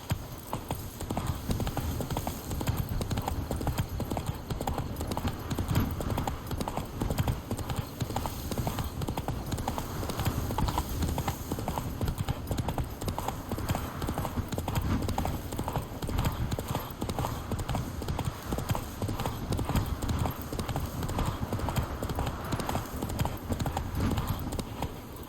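Roach, Geralt's horse in The Witcher 3: Wild Hunt, gallops in a fast, unbroken run of hoofbeats that stays loud and even for the whole stretch.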